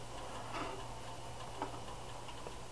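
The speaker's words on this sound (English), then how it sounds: "set the timer for 20 minutes" A small kitchen timer ticks faintly and steadily in a quiet kitchen while food roasts in an oven at 400, with a soft background hum beneath the ticks.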